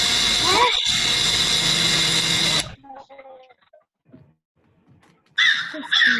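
A crow caws loudly in repeated harsh calls, then cuts off into near silence with faint voices, before another burst of cawing returns at the end.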